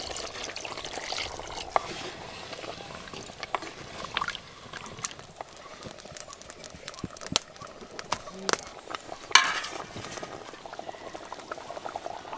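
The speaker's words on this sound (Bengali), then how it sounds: "অল্প একটু জল দেব" Chicken curry simmers in a clay pot as a little water goes in, a soft bubbling, liquid churn with scattered clicks and splashes, fairly quiet and steady throughout.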